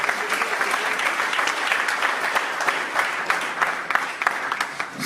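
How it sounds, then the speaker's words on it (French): A conference audience applauds steadily, with dense clapping from a crowd that keeps an even level for several seconds and shows no voices over it. "Applaudissez encore pour Asoda."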